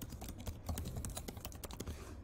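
Quick, light keystrokes on a computer keyboard as a name is typed into a logs-pipeline setup screen, a short irregular burst of soft clicks, close and quiet with no talking.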